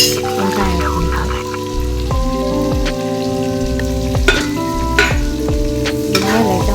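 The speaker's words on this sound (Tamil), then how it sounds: "வெங்காயம் லைட்டாக வணக்கி விடுங்க." Onions and green chillies sautéing in a pan for vegetable pulao, a steady sizzle with scraping stirs under background music.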